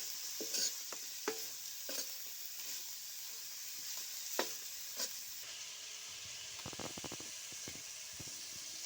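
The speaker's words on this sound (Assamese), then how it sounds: "এতিয়া এইখিনি ভালদৰে লৰাব লাগিব" Pork frying in oil with onions sizzles steadily while a spoon stirs and scrapes the pan in irregular strokes, close and moderately loud with no voices.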